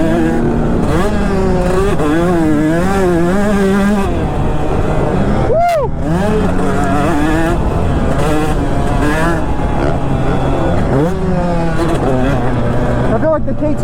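A two-stroke dirt bike rides a motocross track over jumps, its engine loud and close as it revs and drops repeatedly through rising and falling pitch, with a rider's voice audible over it.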